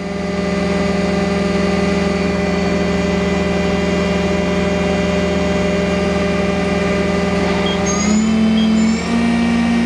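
A Mori Seiki NH5000 DCG four-axis horizontal machining center spindle spins at high RPM near its 14,000 maximum, a loud steady mechanical whine with sustained tonal hum and a slight pitch change near the end, no talking.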